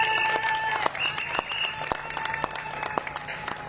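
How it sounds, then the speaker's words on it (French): A crowd applauds loudly for the vice-president at a public gathering in Cameroon, dense clapping with distinct sharp hand claps popping out and some sustained tones from the room underneath. "Applaudissez très fort pour lui."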